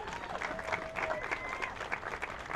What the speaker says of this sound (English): A big round of applause for our CEO and leader,